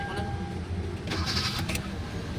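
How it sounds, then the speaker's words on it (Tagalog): A Hyundai Elantra engine, just repaired after a no-crank, no-start fault, fires up at once and settles into a smooth idle, heard up close in a brief burst. "Isang ikot lang na makina, start agad eh."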